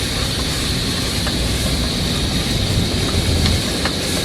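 Ginger-garlic paste sautés in oil in a pan for chicken biryani, giving a steady, close broadband sizzle with a low rumble underneath that holds evenly throughout, with no talking.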